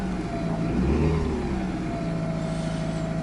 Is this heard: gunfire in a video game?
no